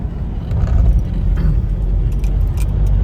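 Car running at about 60–80 km/h on a broken, pothole-strewn highway from Delhi to Shimla, with a loud steady cabin rumble, sharp rattles and jolts as it bounces over the rough surface; no talking.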